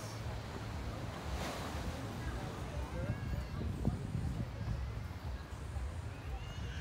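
Sea waves washing ashore at Brandon's Beach near Spring Garden, Barbados, a steady surf rumble mixed with wind noise on the microphone, with someone talking over it.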